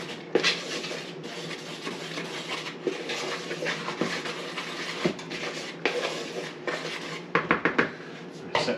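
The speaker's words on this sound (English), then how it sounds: "Mix those dry ingredients." Dry apple muffin ingredients are stirred in a bowl, with a utensil scraping and clinking steadily against the sides and a few sharper knocks near the end, close and alone without talk.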